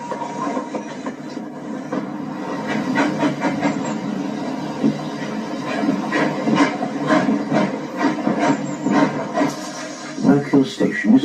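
Steam locomotive Sovereign pulls its carriages out of a heritage station and heads for Birkhill, with a steady hiss and a rising clatter of wheels over stiff points. A voice talks over the sound.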